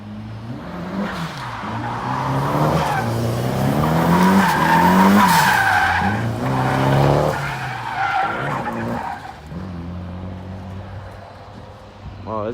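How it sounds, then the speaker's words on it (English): A turbo diesel 2500 pickup drifts with tires skidding and squealing in long wavering screeches over a revving engine, rising and falling in loudness near the middle, with no speech. "so that is Bobby, the guy that was drifting the turbo diesel"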